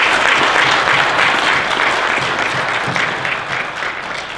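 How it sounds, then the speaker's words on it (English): A symposium audience gives the speakers a sustained round of applause, a dense and loud wash of clapping that holds steady for several seconds and then eases slightly toward the end, with no voices standing out. "So one last round of applause for all the speakers."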